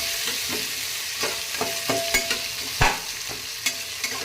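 Masale bhaat ingredients being sautéed in a pan over medium flame, with a steady sizzle broken by repeated scraping stir strokes and sharp clinks of the spoon against the pan, close and fairly loud.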